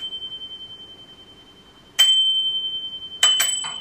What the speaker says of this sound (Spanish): dale al timbre